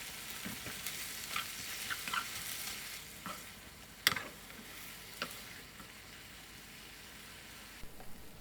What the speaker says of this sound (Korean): 간장 1스푼, 물 3스푼을 넣고 양파가 익을 때까지 볶아주세요.